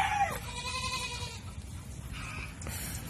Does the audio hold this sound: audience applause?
no